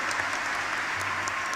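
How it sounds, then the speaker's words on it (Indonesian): Applause from an audience at a public talk, a short, dense, even burst of clapping heard at close range. "Tepuk tangan."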